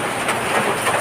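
Steady rain falling outdoors at a rural home where cooking is done over a wood fire, a dense, even wash of droplets close by with no talk.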